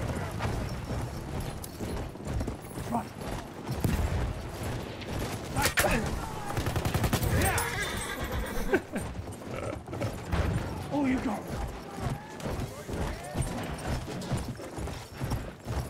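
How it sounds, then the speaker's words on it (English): Galloping horse hooves in the Battlefield 1 multiplayer video game, a steady clip-clop rhythm mixed with gunfire bursts and mechanical clatter, with a player talking over it throughout. "This is probably my best horse run ever."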